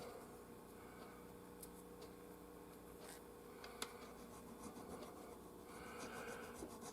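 Metal feeler-gauge nut files rasp across the nut of a Fender Telecaster in quiet, close, repeated rubbing strokes, with a few small clicks along the way.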